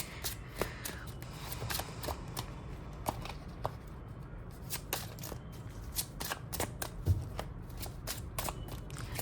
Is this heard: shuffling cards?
yes